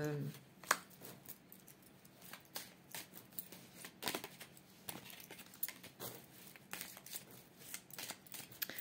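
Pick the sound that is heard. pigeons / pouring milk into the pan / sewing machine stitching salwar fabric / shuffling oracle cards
shuffling oracle cards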